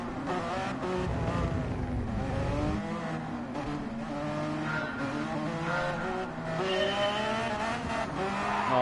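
Race car engine in a racing video game at Abu Dhabi, loud and continuous with shifting pitch as the car spins off onto the dirt part of the track, tire noise mixed in throughout.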